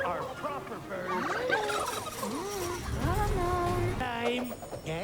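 Several turkeys gobble loudly and repeatedly in a Christmas movie scene, rapid warbling bursts that overlap with one another, with some background noise mixed in.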